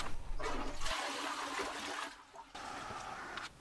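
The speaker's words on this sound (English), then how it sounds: "All that remained was for me to check the volumes of the full and half flush" A dual flush toilet cistern with a newly fitted fill valve and siphon flushes in a strong, steady rush of water, then settles into a lighter trickle and gurgle as it refills.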